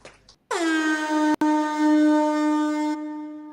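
A single sustained air horn blast sounds loud and close, holding a steady pitch for about two and a half seconds with a brief cutout partway through before it fades.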